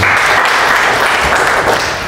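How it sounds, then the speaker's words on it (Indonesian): In a church, a congregation breaks into a dense, steady round of applause, many hands clapping at once and filling the space, fading slightly toward the end. "Kasih tepuk tangan untuk Tuhan."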